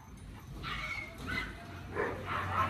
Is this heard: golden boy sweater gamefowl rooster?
no